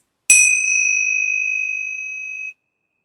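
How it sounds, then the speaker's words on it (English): A single meditation bell struck once at the close of a mindful yoga session, its clear bright tone ringing out steadily and slowly fading over about two seconds before cutting off, heard alone. "when you are ready with the sound of the bell"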